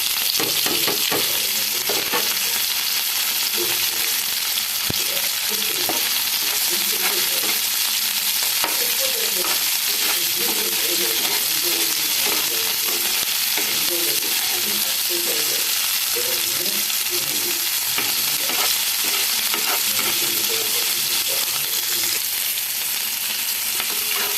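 Chopped onions and unpeeled potato fry in a pan with a constant hissing sizzle, and a spoon clinks and scrapes now and then as the food is stirred. The sound is close and steady throughout, with a faint murmur of voice at times.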